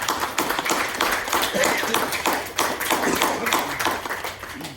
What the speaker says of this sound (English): So I want everybody to give each other a round of applause, please.